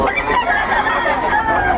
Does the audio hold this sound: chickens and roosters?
yes